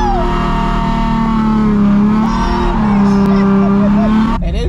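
Car drifting at a ride-along event with a loud, close engine revving and holding high, the pitch wavering up and down through the slide before it cuts off abruptly at the end.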